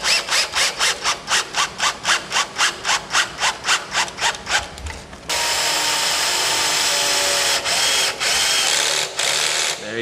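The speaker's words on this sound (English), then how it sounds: "Then we can come get our drill. And the first screw is always the most" A drill drives a Kreg pocket-hole screw into a glued wooden workbench joint. Rapid rhythmic rasping strokes come first, then a loud, continuous motor whine with a few short dips, close up and alone.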